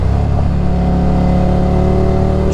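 Ducati Scrambler Desert Sled motorcycle with a 73-horsepower engine running loud and steady, a sustained mid-pitched drone with a faint rising rev near the end, heard alone without talk.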